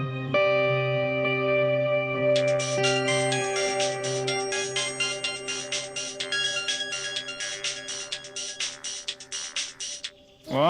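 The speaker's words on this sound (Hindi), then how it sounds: "रुको, हम गोपी को फोन करते हैं" A phone ringing with a looping electronic ringtone melody, sustained tones first and then a fast pulsing pattern, loud and clear with nothing else over it.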